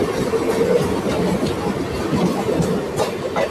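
The Chennai Central–Tirupati Saptagiri Express, daily train 16057, rolls along with a steady, loud rumble and rattle of rail cars, with faint rhythmic wheel clatter running through it and no clear voices.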